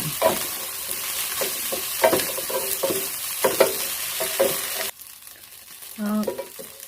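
Rice, egg and shrimp stir-fried together in a hot pan: loud sizzling with brisk irregular spatula scrapes for about five seconds, then a sudden drop to quieter frying with a short knock.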